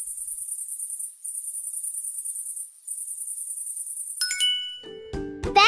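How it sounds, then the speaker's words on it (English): A cicada sings a shrill, high, pulsing buzz in long steady phrases broken by short pauses, followed near the end by a few bright chiming dings. "That's a cicada."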